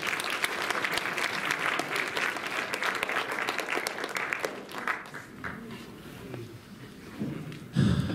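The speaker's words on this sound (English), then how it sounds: "Let's give another round of applause." Audience applause at a Wisconsin post prom, a loud sustained burst of crowd clapping that fades after about five seconds into quieter room noise and murmuring, with a short louder sound near the end.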